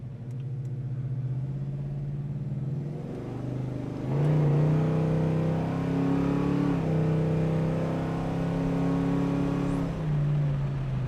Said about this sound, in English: Hopefully you heard the tranny shifting. Shifts crystal clean, like butter.